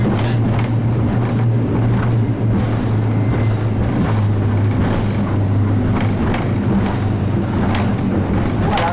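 Twin-engine Nimbus 365 Coupé motorboat cruising at 25 knots in a force 3-4 mistral with short chop, giving a steady, loud engine drone with a low hum and rushing water and wind that stay constant throughout.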